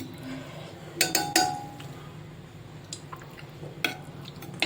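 A spoon stirs a bean curry in a pot after coriander goes in, giving a few sharp metallic clinks and scrapes against the vessel amid quiet background, close by and sparse.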